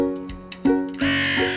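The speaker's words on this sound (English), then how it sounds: "It was the local crows." Local crows caw in a few harsh, loud calls that come close together and overlap, with short gaps between the cries.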